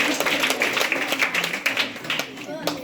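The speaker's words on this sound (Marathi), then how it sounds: "जोरदार टाळ्या वाजवा तिच्यासाठी." Audience at a Marathi talk on scientific outlook and superstition eradication clapping steadily for a girl, a dense run of handclaps across the whole stretch with a voice talking over it.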